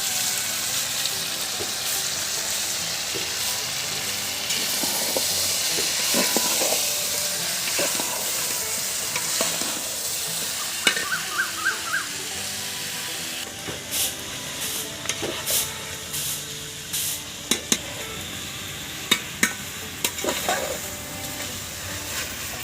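Mutton and chopped apple sauté in a pan for a potato apple mutton curry, a loud continuous sizzle and hiss with intermittent stirring clatter and spoon knocks building toward the end.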